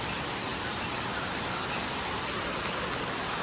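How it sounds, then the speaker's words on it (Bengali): Steady rain falls continuously in a soft, even hiss of drops on surfaces, fairly faint and unbroken, with no voices, during a Sunday market outing. "এতক্ষণ ধরে বৃষ্টি হচ্ছে"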